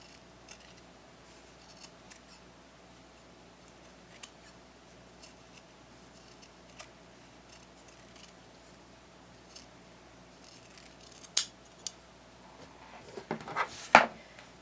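Scissors snip through the fabric of a handmade bunny plush, trimming excess seam allowance; faint, scattered cuts at first, then a sharper cluster of louder snips near the end, with no talking.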